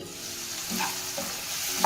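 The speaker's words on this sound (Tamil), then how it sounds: "இப்போ தக்காளி போட்டுக்கலாம். தக்காளி வதங்கட்டுங்க." Tomatoes sautéing in a pan for an okra soup, giving a steady close sizzle with a couple of soft spoon stirs and a small clink near the end; no one speaks.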